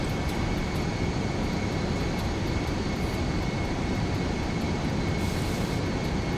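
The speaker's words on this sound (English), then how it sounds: "the engines are in idle, they do need quite a while to spool up." Boeing 707 jet engines at idle in a flight simulator game during a landing approach give a steady, dense, unbroken roar with a faint high whine, loud and close throughout.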